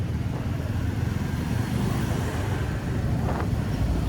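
Steady road traffic on a route toward Thiruvannamalai, with buses among the vehicles, makes a continuous low rumble of passing engines and wind buffeting close to the microphone for the whole stretch, with no talk.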